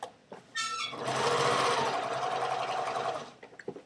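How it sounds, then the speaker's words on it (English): A sewing machine edge-stitches a trouser fly seam with a zipper foot, a close, steady mechanical whir running for about three seconds after a few short starts, then stopping. "The seam allowance is going toward the pant, and I'm basically sewing it down."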